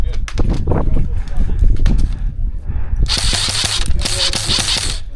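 An airsoft gun fires in the rain: sharp rapid snaps with close voices early on, then two dense hissing bursts of rounds near the end.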